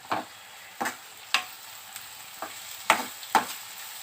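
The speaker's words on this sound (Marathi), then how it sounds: "आता ह्याच्यामध्ये आपण ना टोमॅटो घालूया टोमॅटो घालायचं एक चमचा परतूया" Chopped tomato sautés in a pan, with a soft background sizzle broken by about seven short scraping strokes of a spoon, close and fairly quiet.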